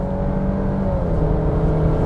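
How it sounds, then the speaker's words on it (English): Alfa Romeo Stelvio engine pulling hard on a racetrack, a steady loud drone with a gradually rising tone under continuous road and wind roar, no voices. "now you can hear the engine a lot better"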